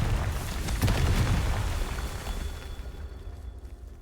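The Confringo explosion spell in Hogwarts Legacy goes off with a single loud blast just under a second in, followed by a rumbling decay that tails off over the next few seconds.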